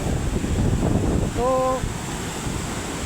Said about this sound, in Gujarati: જો મિત્રો બહુ જ પાણી આવ્યું છે